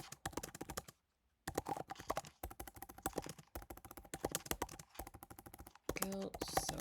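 Rapid keystrokes clatter on a computer keyboard in quick bursts separated by brief pauses, close and crisp with no voices.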